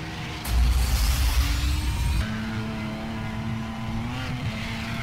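A car engine in the racing game FlatOut 4 revs hard and accelerates, a loud roaring burst that settles into a steadier droning engine note with rising pitch, close and without talk.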